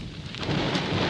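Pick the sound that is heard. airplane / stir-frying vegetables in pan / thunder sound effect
thunder sound effect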